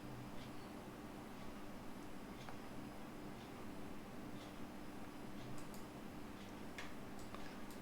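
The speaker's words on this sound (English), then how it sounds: "It's just been ticking away trying to start an engine that's already going." An engine igniter in the Aerobask Epic 1000 aircraft in X-Plane 11 ticks away: faint, rapid clicking repeating steadily over a low cockpit hum, with no voices.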